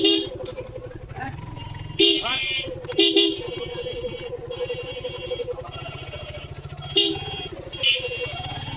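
A motorbike putters along slowly through a crowded weekly village market at Bajua Bazar, its engine droning steadily while horns toot sharply several times and a voice talks over the ride.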